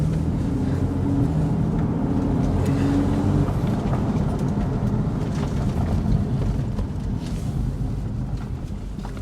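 Porsche 911 Carrera S (991.1) convertible engine droning steadily while driving, mixed with heavy wind rush across the microphone, continuous and fairly loud with no talk.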